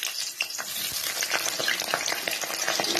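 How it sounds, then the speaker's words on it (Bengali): Eggplant pieces fry in hot oil with fenugreek seeds in a home kitchen pan, giving a steady, close crackling sizzle with scattered sharp pops and occasional stirring scrapes, and no voices. "তার সাথে আমি এখন বেগুনগুলি ভেজে নেব"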